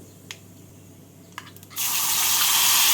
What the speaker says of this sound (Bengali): মশলা বাটিটা ধুয়ে অল্প জল দিয়ে দিলাম